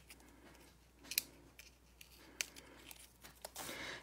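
Scissors snip through a cardstock sentiment layer in a few quick, close cuts, with light paper rustling and crinkling between the snips.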